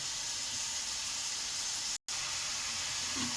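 Bitter gourd and shrimp sizzling as they fry in a pan, a steady close hiss that runs throughout with one brief dropout.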